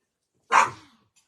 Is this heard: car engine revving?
no